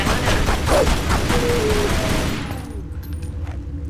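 Sustained gunfire in the 2007 Tomb Raider video game, a dense, loud volley of rapid shots that tapers off after a few seconds into quieter ambience, with no talking.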